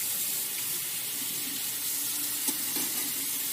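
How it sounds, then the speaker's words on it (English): Food being rinsed under a running kitchen tap: a steady, close hiss of flowing water with faint splashes and a small knock, and no voices. "I'm going to start rinsing some of these things off here"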